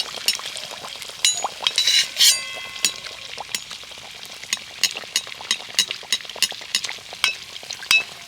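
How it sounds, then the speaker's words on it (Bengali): Rice flour batter fries in hot oil in a kadai, giving a continuous sizzle broken by frequent sharp clinks and scrapes as the oil is stirred and splashed, close and without talk. "এইভাবে তেলটা নাড়িয়ে নাড়িয়ে ভালো করে মানে ভেজে নিতে হবে এটাকে"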